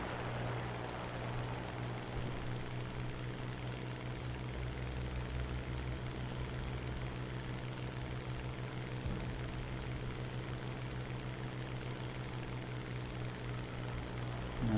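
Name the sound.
Hurricane fighter plane approaching in a flight video game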